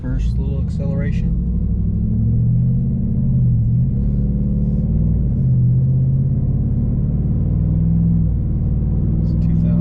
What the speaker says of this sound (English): I think you can definitely hear an increase in volume at those low RPMs, like right when you take off.